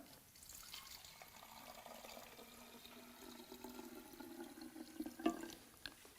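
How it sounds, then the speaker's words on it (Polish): About half a litre of clean tap water is poured into the clean-water tank of a Philipiak Milano 3-in-1 vacuum cleaner, a faint, continuous trickle with a slightly louder splash near the end. "Odkręcamy i wlewamy wodę, czystą wodę z kranu, mniej więcej pół litra."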